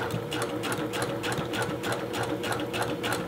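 A domestic sewing machine fitted with a stretch needle stitches T-shirt knit fabric, giving a fast, even mechanical clatter of needle strokes running steadily throughout, close and fairly loud, with no voices.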